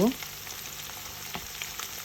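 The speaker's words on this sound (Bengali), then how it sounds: "এখন আমি অর্ধেকটা চিকেন প্রথমে ভেজে নিব" Chicken pieces fry in oil with a steady crackle and sizzle in a pan, with a few brief clicks and bubbling pops, close and moderately loud.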